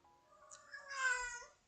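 A cat meows at night, one drawn-out, rising and falling cry with a couple of shorter calls before it, moderately close and alone without any talking.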